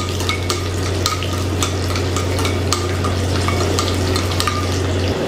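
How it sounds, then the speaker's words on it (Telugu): Garlic fries in a pan with a steady sizzle while a utensil scrapes and stirs it in repeated strokes. A constant low hum runs beneath, and no one speaks. "ఇందులో వెల్లుల్లిపాయలు వేసుకుందాం ఒకసారి బాగా వేపుకుందాం"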